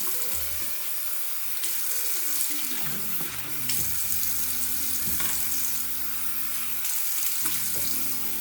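Running tap water splashes and gurgles into a container as it is rinsed out, a steady close wash of water with shifting tones as the container fills and empties.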